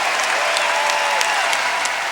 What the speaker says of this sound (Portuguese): emocionou o público e, por diversas vezes, arrancou aplausos eufóricos